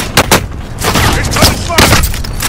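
Close-range gunfire in a warzone, loud rapid cracks and bursts in quick succession with shouting voices mixed in.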